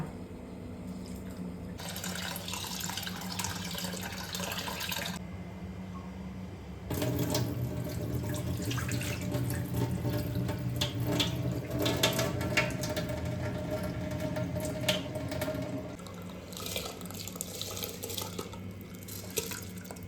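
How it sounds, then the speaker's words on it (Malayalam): Steady running water from a tap splashes into a metal tea pot while rice is washed, with a brief pause midway before the flow resumes, close and continuous. "ഞാൻ ചായപാത്രത്തിലാണ് അരി കഴുകുന്നത്"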